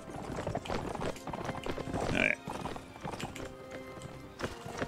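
Horse hooves galloping in the Mount & Blade Warband video game, a busy clip-clop of several mounts running close, with a brief whinny midway and someone speaking once.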